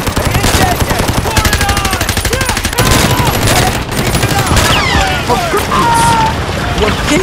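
Rapid machine-gun bursts and overlapping gunfire from a toy army men stop-motion battle, loud and continuous throughout with shouted voices over the shooting.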